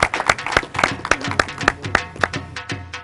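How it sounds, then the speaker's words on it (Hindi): A small audience claps for a prize-winning farmer called up at a rural lucky draw, with sharp, distinct individual claps in an uneven rhythm, close and fairly loud. "बहुत तालियां जी तशरीफ़ लाएं"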